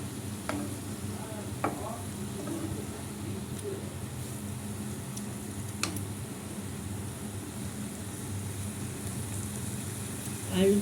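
Potatoes, onion and tomato sauté in a pan with a low, steady sizzle, punctuated by a few faint spoon clicks and scrapes, quiet and close.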